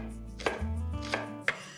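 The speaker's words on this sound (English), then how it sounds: "collect all of these beans and chop this again nice and fine" Green beans being finely chopped with a knife for a mixed vegetable stir fry: three sharp, close knife strikes on a board, spaced apart, with no talking.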